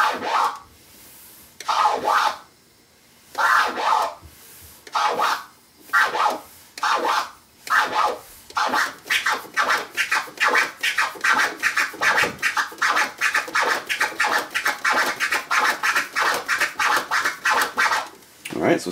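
A DJ performs a see-saw scratch on a turntable record, rapid back-and-forth rubbing strokes repeating in a steady, accelerating rhythm, loud and close with brief pauses between phrases.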